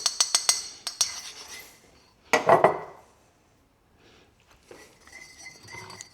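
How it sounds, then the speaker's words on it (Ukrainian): Utensil stirring salad dressing in a bowl: a quick run of metallic clinks, then a scraping swirl, followed by quieter taps and faint clatter, close and with no voices. "Треба розмішати так, щоб з'єднались ці структури."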